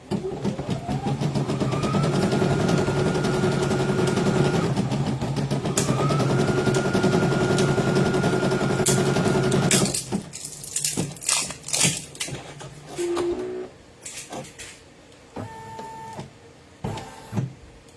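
An embroidery machine stitching out a design for pageant wear hums with a steady, loud, buzzing whir for several seconds. It then stops and gives way to scattered clicks, clunks and short mechanical whirs close by.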